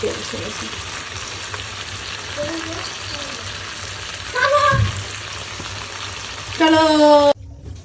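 Marinated chicken fries in hot oil in a pan with a steady, close sizzle, with a couple of louder bursts of frying and stirring near the middle and end.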